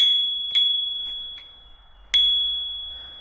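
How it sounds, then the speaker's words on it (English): The bicycle bell on a LEITNER folding e-bike rings close and loud twice, each a bright metallic ding that decays slowly. A softer tap comes between the two rings, and no one speaks. "and there's a bell."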